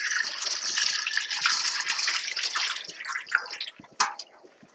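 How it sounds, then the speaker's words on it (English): Water pours off diced potatoes being drained in a kitchen, a steady rushing gush for several seconds that tapers into splashes and a few drips near the end. "Now I'm going to drain the water off."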